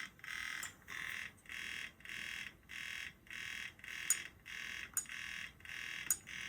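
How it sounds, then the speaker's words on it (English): A PSP 3000 UMD disc drive runs badly, giving a repeating pulsed whir in regular bursts about every half second, with small clicks and ticks on top, close and steady with no talking. "I can hear the drive moving, and that doesn't sound good."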